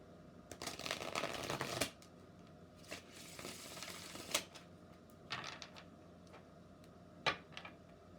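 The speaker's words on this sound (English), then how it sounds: "I'm using the Universal Celtic Tarot" A Universal Celtic Tarot deck is shuffled close by: a long riffling rush, then scattered short riffles and soft taps between quieter pauses, with no talk.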